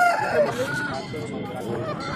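Country chickens and roosters at a busy poultry market in Yavatmal give a brief, noisy burst of clucking and crowing against crowd hubbub.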